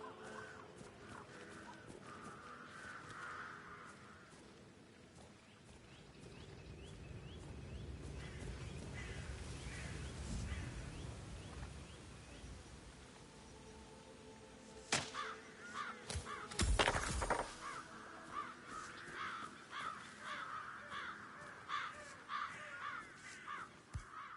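Crows caw in Hitman 3, several harsh calls repeating at a distance over quiet ambience, with a couple of sharp nearby thuds partway through.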